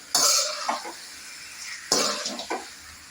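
Onions and meat with salt being sautéed in a pan, heard as two bursts of scraping and stirring with a brief sizzle, quiet in between, no talk.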